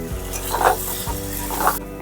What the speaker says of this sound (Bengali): এখন আমি দিয়ে দিচ্ছি খাসির মাংস চর্বি।